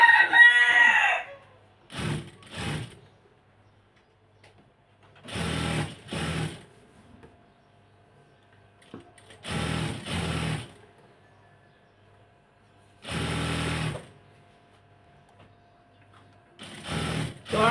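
A sewing machine stitching elastic onto palazzo trousers, running in short bursts separated by long quiet gaps, close and clear, with a brief squeaky sound at the very start.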